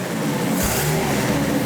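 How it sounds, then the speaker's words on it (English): Turbocharged Ford 300 inline-six engine running on a dyno: a loud, close, continuous engine roar that swells in a rev surge partway through, with dense rumbling throughout and no talk. "Ford 300 with a turbo, running very beautifully in the dyno"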